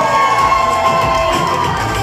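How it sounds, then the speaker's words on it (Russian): Wedding guests cheer and clap with no music, a dense, steady wall of crowd noise that holds at a fairly loud level throughout. "Теперь без музыки аплодисменты!"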